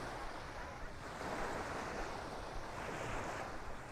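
Ocean waves wash along Palm Beach in Aruba as a steady, soft surf rumble with gentle swells, mixed with light wind buffeting the microphone.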